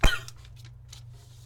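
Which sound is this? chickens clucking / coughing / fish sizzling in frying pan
coughing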